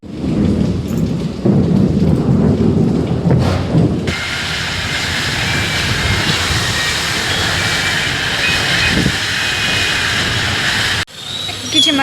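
Heavy rain with thunder: a loud, steady roar of downpour fills the scene, with deep rumbling early on, continuing unbroken until it cuts off abruptly near the end.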